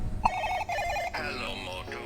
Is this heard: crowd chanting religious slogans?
no